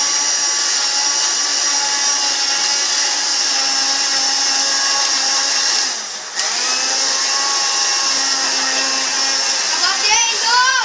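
A kitchen blender whirs loudly and steadily as it purees apple and tomato into a smoothie, with a brief dip in pitch partway through and some clatter near the end.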